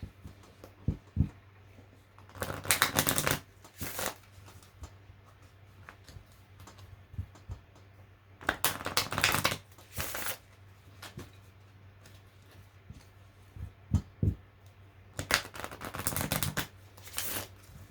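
Oracle cards are shuffled in three separate bursts of crisp riffling, with quiet gaps and a few soft taps between them.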